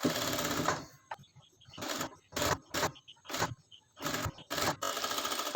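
A sewing machine stitches a frock in short, sharp bursts of whirring, several quick runs separated by pauses, close by and alone. A longer continuous run comes at the start and again at the end.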